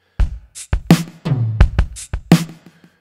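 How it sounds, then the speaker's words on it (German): Electronic drum kit groove from Addictive Drums in Logic Pro using the Tape DMX Wet kit, punchy artificial kicks, snares and hi-hat hits in a steady pattern, loud and dry with no voices. "Ich suche mir hier mal ein lustiges, vielleicht ein elektronisches Drumkit raus."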